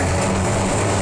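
A car engine revs loudly after a shift into third gear, a brief, dense roar with deep rumble, heard close and unbroken.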